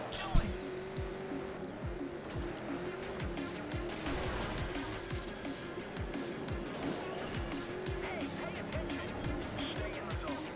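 Race car engine in the Trackmania Turbo video game, a steady droning whine with repeated tire squeals and skids during a wall ride, loud and continuous beneath someone talking in French.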